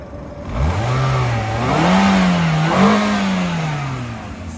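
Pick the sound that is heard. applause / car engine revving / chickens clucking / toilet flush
car engine revving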